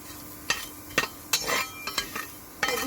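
Pumpkin seeds being stirred and dry-fried in a pan, with a spoon scraping and clinking against the metal in sharp intermittent strokes about every half second, close and moderately quiet with no voices.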